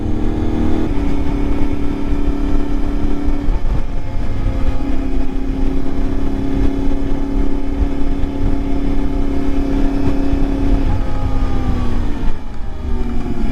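An Ibex 450 motorcycle with an upgraded ECU and new clutch springs drones steadily on a ride along the Ortega Highway, its engine note loud and close, rising and easing slightly with throttle throughout, wind rushing underneath.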